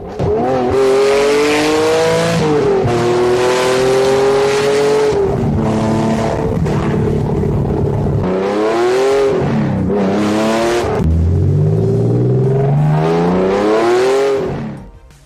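A TVR straight-six engine revving hard at high revs, its note climbing and falling repeatedly in long loud sweeps with a strong rising howl.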